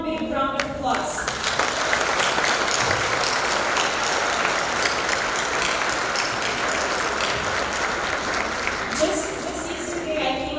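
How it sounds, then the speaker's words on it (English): An audience at an award ceremony applauds graduates with sustained, dense clapping, loud and steady from start to finish. A few tonal chiming sounds and brief voices appear at the beginning and end. "we're gonna give them one big round of applause."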